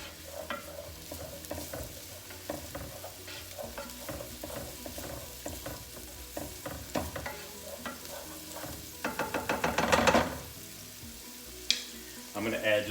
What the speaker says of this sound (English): this is just cooking in the extra virgin olive oil